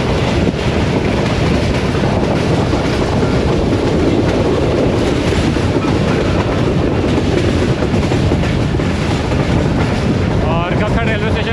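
The 102 Down Subak Raftar express rushes through Kakhar station with a loud, continuous roar and rattle of coaches, and wind buffets the microphone steadily.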